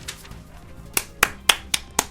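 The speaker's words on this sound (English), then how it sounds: "hand clap for you" Five sharp, evenly spaced single hand claps ring out at a moderate, near level over quiet background hiss, following a faint soft tap at the start.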